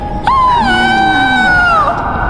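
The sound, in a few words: woman screaming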